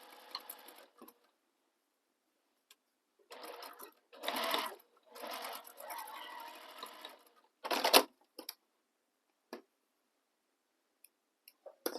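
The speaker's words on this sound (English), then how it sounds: "So we'll top stitch these folded edges." A sewing machine top-stitches the folded fabric edges of a sling bag, running in several short bursts separated by pauses, with a few isolated clicks and taps in between.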